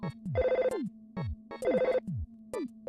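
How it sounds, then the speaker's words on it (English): Telephone ringing in the SNES game Earthbound, a chiptune ring in two repeated bursts with rhythmic blips and falling tones between them, loud and clear with no talking. "She seems to be totally ignorant that the phone is ringing."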